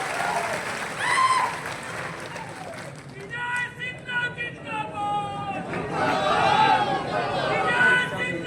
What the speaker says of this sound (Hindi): अगर ठीक है तो एक बार जोरदार तालियां नीतीश कुमार के,